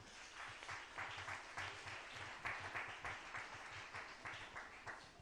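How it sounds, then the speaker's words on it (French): A church congregation applauds during a worship service, a steady, fairly faint wash of clapping lasting several seconds with no voices over it. "Acclame le Seigneur Jésus."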